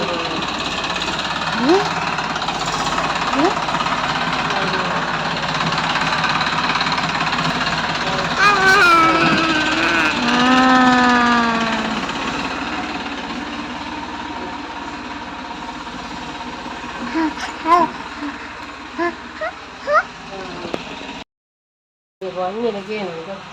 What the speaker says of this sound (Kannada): ಸೊ ನಮ್ಮದು ಇಲ್ಲಿಂದ ಟ್ರ್ಯಾಕ್ಟರ್ ಹೋಗಬೇಕು